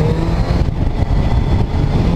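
A Lamborghini engine roars loudly and steadily at close range, a continuous deep rumble with slight swells in revving throughout, no voices over it.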